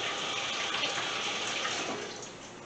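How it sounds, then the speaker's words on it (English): Hands are washed under a running kitchen tap, with a steady, close, hissing stream of water splashing continuously and easing slightly toward the end. "Let me wash my hands really quickly."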